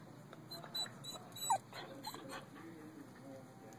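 A dog whimpers and yips in short, faint bursts close by while people talk softly over it.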